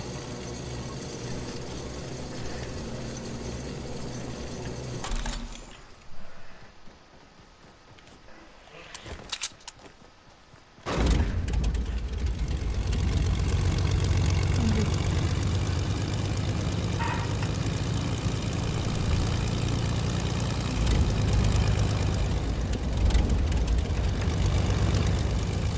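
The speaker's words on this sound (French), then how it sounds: "Je prends un avion et j'arrive." Propeller airplane engine in Fortnite, a loud steady droning hum that cuts out briefly into near quiet for several seconds, then returns abruptly and holds strong and close to the end.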